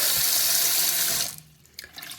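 Tap water runs steadily into a pot for crafting felt, a loud, close hissing rush that cuts off after about a second, followed by faint drips and small clatters.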